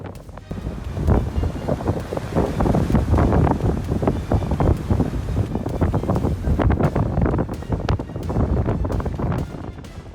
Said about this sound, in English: Howling winds, roaring waves, storm.